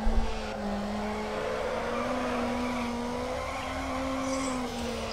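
A street-racing car in the video game Need for Speed Underground slides through a drift, its engine holding a steady whining note over a continuous hiss of tire squeal, moderately loud and unbroken.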